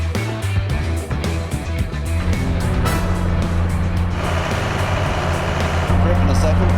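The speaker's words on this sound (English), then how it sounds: "Let's get that truck to the top and continue as fast as possible." A 4WD truck engine labors steadily uphill during an off-road run, a loud continuous rumbling drone with voices talking over it.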